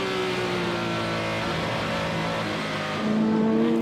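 A crowded field of race cars on the opening lap of the 2024 24 Hours of Le Mans, including Porsche, Ferrari, Cadillac and BMW entries, roars continuously with layered engine drones, loud and unbroken, with a fresh engine note swelling near the end.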